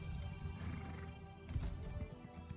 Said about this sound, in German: Neues Pferdchen.